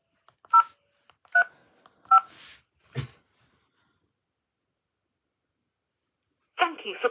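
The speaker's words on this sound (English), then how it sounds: "Right, so let's get the phone and let's call the number." A Panasonic KX-PRW120 cordless phone sounds three short dialing tones in a steady rhythm, followed by a brief noise and then silence before a burst of faint recorded voice at the end.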